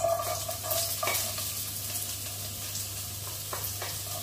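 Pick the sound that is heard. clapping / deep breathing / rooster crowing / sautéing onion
sautéing onion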